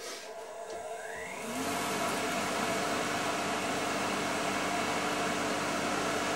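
A saw with a homemade dust collection bag plugged into its outlet switches on and spins up, its steady broadband whir and hum rising after a quiet start and holding loud and continuous throughout.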